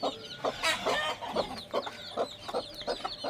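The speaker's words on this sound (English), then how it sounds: "It's for the chicks. Go to baby chicks." Chickens clucking over scattered rice, a rhythmic series of about ten short, close clucks at roughly even intervals, with a brief louder squawk near the start.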